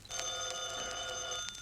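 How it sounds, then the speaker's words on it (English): A telephone bell rings in a bright, continuous metallic trill with faint pulsing, a single short burst heard alone. "Answer the phone, Mary."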